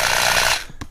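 A power drill whines loudly and steadily as it bores out a rivet, then cuts off abruptly, followed by a brief clunk of metal.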